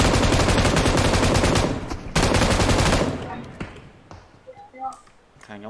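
Rapid AK rifle fire in PUBG Mobile, a loud sustained automatic burst with a brief break, then fading to scattered pings and tail sounds, with a voice speaking over the later part.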